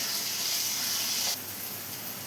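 Three onions and a tomato fry in hot oil for a dried bombil fish dish, giving a bright, close sizzle that drops abruptly to a softer, quieter hiss partway through.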